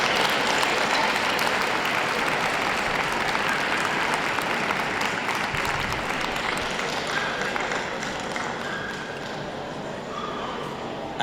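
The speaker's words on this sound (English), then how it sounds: "Big round of applause." Sustained applause from a large crowd at a dog show, steady dense clapping throughout that eases slightly toward the end.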